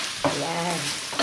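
Spareribs with pineapple being stirred in a frying pan, a short scrape of the spoon against the pan over a steady sizzle, close and fairly loud, with no voices.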